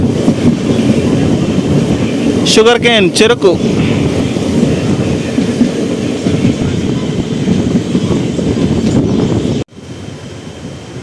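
A train runs steadily between Tiruvannamalai and Tirupati past green sugarcane fields, its loud continuous rumble carrying beneath a voice, with a brief whistling passage early on before the noise suddenly drops near the end.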